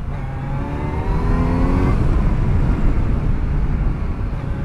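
A stock Triumph Street Triple motorcycle revving while riding, its engine note climbing smoothly and then holding as a dense, close roar with wind noise throughout.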